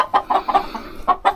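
Chickens cluck nearby in a quick series of short, close clucks, about six bursts over a second and a half with brief gaps between.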